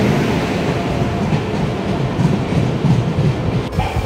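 A passenger train pulling into a railway station rumbles steadily and fairly loud throughout, a dense low roar with faint rail clatter and no voices.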